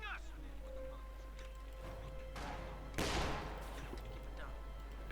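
Gunfire in Company of Heroes 2 during a 1v1 match between Soviet and OKW forces, with a loud burst near three seconds over steady background battle noise and ongoing commentary.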